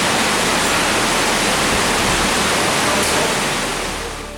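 Loud, steady rush of an underground streamway in Alum Pot cave, where two waters combine, filling the space with dense broadband roar that fades slightly at the end.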